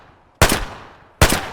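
Gunfire in the video game Escape From Tarkov: two sharp, loud single shots spaced under a second apart, each with a quick attack and a short decaying tail, no talk.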